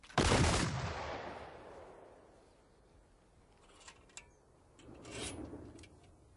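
A rifle volley fires as one loud crack that rolls away into a long echoing decay, followed by faint clicks and rustling of handled weapons and a soft rumble.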